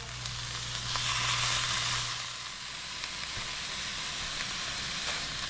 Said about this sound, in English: I'm adding just a tiny bit more meat. And then we're just gonna brown this up.